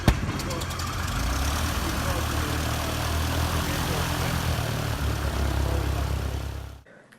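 A propeller-driven fixed-wing aircraft engine runs steadily and loudly close by, a sustained broadband roar with a low throb that holds for about seven seconds before cutting off abruptly.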